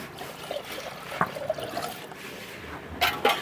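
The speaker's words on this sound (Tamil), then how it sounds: "தண்ணி ஊற்றிக்கலாம்." Water is poured into a pot while village cooks make samosas, a soft, close trickle and splash in short bursts that ends with a brief louder gush.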